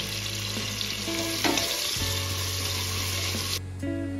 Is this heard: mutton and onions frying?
yes